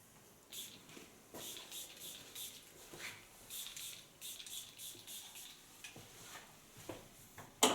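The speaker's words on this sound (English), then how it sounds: "This you spray just on the hairs." Lakmé polish, a fluid wax, is sprayed onto thick hair in a salon as a run of soft, hissing spray bursts in quick succession, fairly quiet and close, with no talking.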